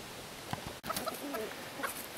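Free-range chickens, including silkies, cluck and chirp in a busy flurry of short calls as they are let out of their pen, several birds close by with no one talking.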